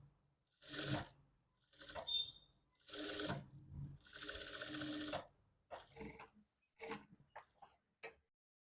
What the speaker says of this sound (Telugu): ఫస్ట్ ఈ ½ ఇంచు ఖర్చు పైన ఒక కుట్టు వేసేసుకుందాం